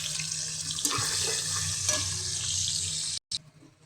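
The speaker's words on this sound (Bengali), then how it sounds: "পেঁয়াজ কিন্তু বন্ধুরা ভাজা হচ্ছে লাল লাল করে।" Onions fry in a pan with whole spices such as cumin, bay leaf, green chilli, cloves and cinnamon, producing a steady, close sizzle that cuts off briefly near the end.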